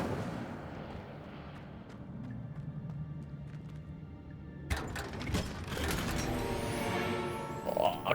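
The Incendio fire spell is cast in the video game Hogwarts Legacy. After a quiet, low rumbling stretch, a sudden loud whooshing, crackling burst erupts and keeps roaring with sharp snaps until the end.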